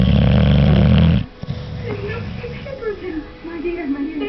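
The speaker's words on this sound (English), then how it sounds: "Listen to him snoring." A man snores loudly in a heavy rumbling burst at first, then the sound drops to softer breathing under a speaking voice.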